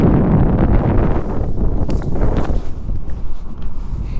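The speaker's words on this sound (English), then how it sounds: "I do apologize for the wind noise." Gusty wind buffets the microphone outdoors beside a 2010 Lamborghini Gallardo LP-560 in Oklahoma, a loud, steady low rumble with rustling bursts that eases off slightly toward the end.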